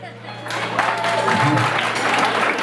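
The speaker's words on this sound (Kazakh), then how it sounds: "Шапалақ ұрып отқанlar, бүгіннен бастап байып кеткенсіз, бір шапалақ ұрайық." Wedding guests at a Kazakh toy clap together, a steady dense applause that swells and holds loud across the whole moment, with a voice and some music running underneath.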